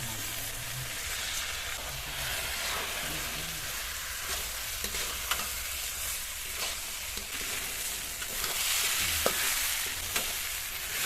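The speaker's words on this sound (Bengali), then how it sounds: "চালটা দেওয়ার পরে দু তিন মিনিট ভেজে নিয়েছি" Washed rice frying in spiced masala for egg pulao, stirred in a pan, a continuous dense sizzle with soft scraping stirs and occasional spoon clicks, swelling louder near the end.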